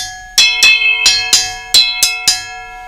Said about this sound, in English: And they make a chime sound.